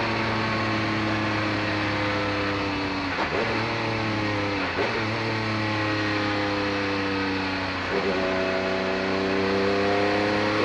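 A 1982 Pontiac Trans Am pace car engine at a vintage racing reunion, droning loudly and steadily with rising revs broken by brief dips around three, five and eight seconds, like gear changes.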